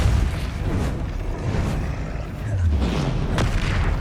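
A Confringo fire spell explodes in the video game Hogwarts Legacy, a deep booming blast with rumbling low end that runs through the whole stretch, with further impact bursts near the end.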